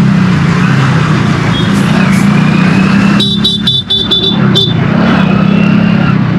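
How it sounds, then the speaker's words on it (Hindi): Dense, congested traffic on a bridge in Thane, India: a steady engine rumble from cars and trucks, with a burst of several short horn honks midway, heard up close and loud with no talk. "यहाँ पे बहुत ज़्यादा हैवी ट्रैफिक होती है"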